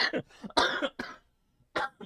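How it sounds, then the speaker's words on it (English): A sick man coughs several times in quick, harsh bursts, close to the microphone, with a brief pause before a final cough. "I'm sorry for my cough"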